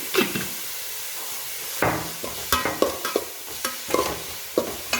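Onions with a pinch of salt sautéing in a pan for a Kerala mutton fry, a steady soft sizzle under repeated scraping strokes of a spoon stirring, close and moderately loud.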